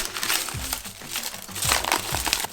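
Wrappers on milk chocolate bars crinkle and rustle as they are torn open, close up, in quick uneven bursts of crackling foil and paper.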